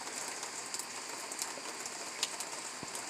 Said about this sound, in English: Yeah, it's been pretty much raining all night.